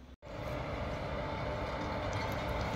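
A train hauled by an Indian Railways WAP-4 electric locomotive rolls past with a steady, loud rumble and rattle of wagons, continuous throughout with no speech.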